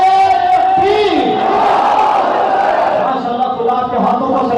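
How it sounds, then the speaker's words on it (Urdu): A large gathering at a religious speech in Bahawalnagar roars back the Takbeer slogan in unison, a loud, sustained collective chant that swells and holds for several seconds. "بلند آواز سے زوردار نعرے کا جواب دیجیے"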